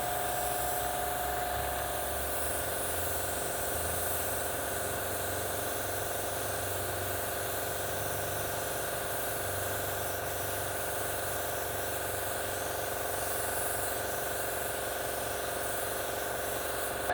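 Paint spray gun in a body and paint repair, run at very low air pressure of 7 psi with low fluid and the trigger partly pulled, giving a steady continuous hiss close by with no voices.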